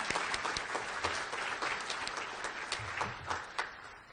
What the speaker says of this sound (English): Let's give everybody a round of applause who was involved in that.